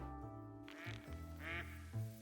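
Duck quacking in the field near a hunting blind, a few loud, raspy calls in quick succession standing alone over a faint outdoor background.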